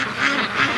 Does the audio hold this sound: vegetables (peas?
no